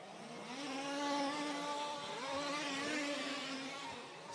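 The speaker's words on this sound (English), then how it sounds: "Stu Wood's engine just sounds a bit off." Engine of an RC race car sounding off and uneven, a thin buzzing whine that rises and falls in pitch as it passes, moderately distant and fairly faint.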